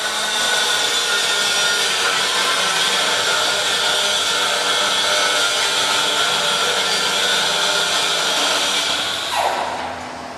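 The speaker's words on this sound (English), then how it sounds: "Just sand her down good and clean her up so it sticks better." Sanding the tire bead seat of a wheel rim on a 2011 Ford Edge Limited, oxidized and leaking: a loud continuous abrasive whir holding steady, then tapering off at the end.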